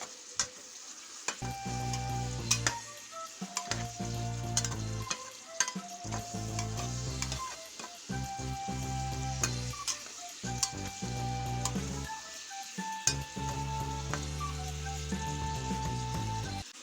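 Pork belly stir-fried in a pan with chili curry paste and fermented soybean paste, giving a steady close sizzle broken by repeated scraping stirs of the spatula, with no one talking.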